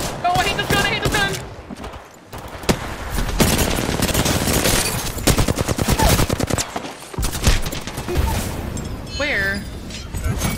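Loud bursts of rapid gunfire in an Apex Legends match, sharp repeated shots in clusters with brief gaps, mixed with game effects while players talk over it.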